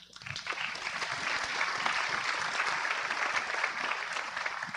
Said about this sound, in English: I think we should applaud them